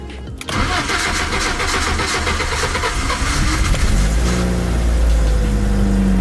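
An old car's worn-out engine cranks and catches, then settles into a loud, rough idle and revs up, heard close and alone without any talk.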